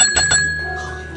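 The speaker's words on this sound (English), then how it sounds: "just ring the bell" A bicycle bell rings twice in quick succession, loud and close, with a clear metallic tone that lingers and fades over a quiet background at a street speed-dating event.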